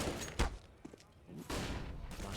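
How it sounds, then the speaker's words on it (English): Flashbang grenades exchanged in a professional Counter-Strike match on the Inferno map: two sharp, broadband bursts about a second apart, the second one longer and hissing, under live commentary. "Flashbangs exchanged."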